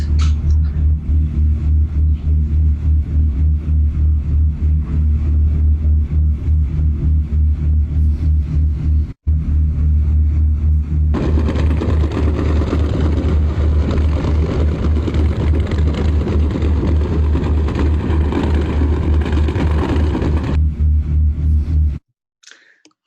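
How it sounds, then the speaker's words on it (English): A boat's engine drones in a loud, steady, low rumble with a constant mechanical hum, rising in intensity partway through before cutting off abruptly. "This is a noise from a boat."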